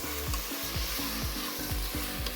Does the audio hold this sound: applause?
no